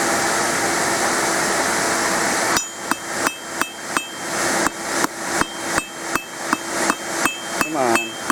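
Blacksmith hammer blows drawing out a gradual taper on a forged bracelet, preceded by a steady roar of the forge, then a rapid series of about fifteen sharp, ringing metallic strikes at a brisk, even rhythm, loud and close.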